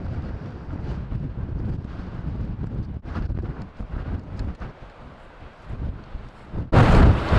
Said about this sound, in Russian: Здесь очень ветрено.